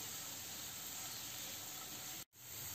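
Grated dry coconut roasting in a pan, a steady close sizzling hiss that runs unbroken except for one brief cut near the end.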